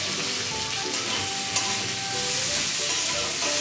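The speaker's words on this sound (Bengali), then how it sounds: "এবার দিয়ে দিচ্ছি পেঁয়াজ কুচি।" Chopped onion fries in hot oil with bay leaf, dried red chilli and nigella seeds for a Bengali boal fish curry, a dense continuous sizzle with stirring, close and steady, with no talking.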